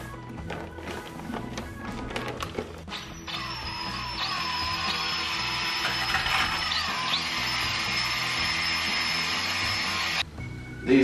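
A power drill with a paddle mixes tile mortar in a 5-gallon bucket, a high whine running steadily for several seconds with a gritty churn beneath, preceded by clatter and handling noises.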